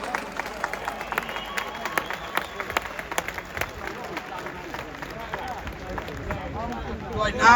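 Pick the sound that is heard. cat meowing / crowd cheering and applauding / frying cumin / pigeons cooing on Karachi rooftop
crowd cheering and applauding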